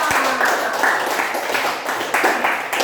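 A classroom of students applauds together, a steady wash of dense, close hand claps running unbroken throughout with no voices standing out.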